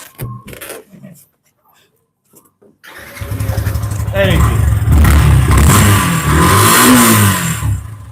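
A new motorcycle engine starts after a short quiet stretch with brief speech, then revs loudly and steadily nearby for several seconds, rising and falling in pitch.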